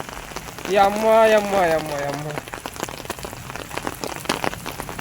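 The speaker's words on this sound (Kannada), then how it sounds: "ಹಲವೆಡೆ ಆಲಿಕಲ್ಲು ಸಹಿತ ಭಾರೀ ಮಳೆಯಾಗಿದ್ದು" Heavy rain with hailstones makes a steady hiss and scattered sharp impacts. A nearby voice exclaims loudly over the start, then the pelting continues alone.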